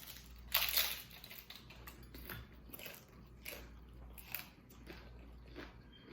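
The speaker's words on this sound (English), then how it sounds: "oh, you hear that crunch?" A close, crisp crunch as someone bites into a tostada, followed by quieter, steady chewing with no talk.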